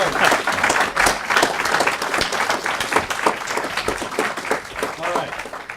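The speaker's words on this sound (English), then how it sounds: "Another round of applause." Audience applause fills a hall after a presentation on Reagan, a dense steady patter of many hands clapping at full volume throughout with a few whoops over it.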